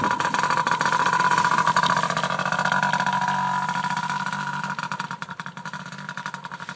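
Dirt bike engine running during a winter ride, loud and near: a raspy, buzzing drone with a revving tone that eases off and turns into choppy, pulsing putters toward the end.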